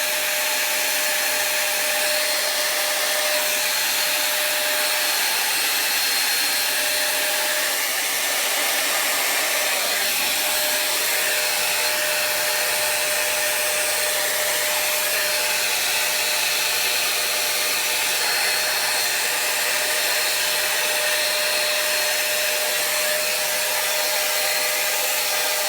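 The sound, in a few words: hairdryer blowing with styling brush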